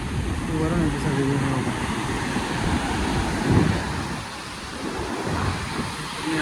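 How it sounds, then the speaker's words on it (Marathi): A mountain river in Manali rushes in a steady, broad roar close by, continuous throughout, with faint voices under it. "ही बघू शकता नदी तुम्ही"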